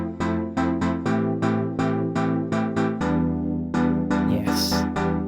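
Lush chord progression on a single synth layer, sustained chords changing in a steady rhythm of repeated stabs, played alone with no talking.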